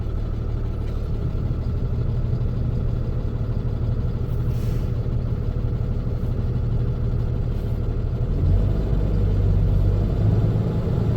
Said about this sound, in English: So the compressor just kicked on. So now it's filling up both of them.